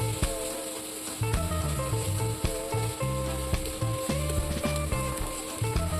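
Chopped onion and carrot frying in a pan of hot oil for egg chowmein, a steady close sizzle that runs the whole time with faint scraping and stirring knocks underneath.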